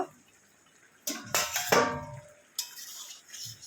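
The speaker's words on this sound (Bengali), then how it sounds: "এবার আমি ঢাকাটা খুলে দেব" A metal lid lifted off a pot of egg curry, giving a clanking scrape followed by a rush of bubbling and sizzling, then a second brief clatter, close by with no talk.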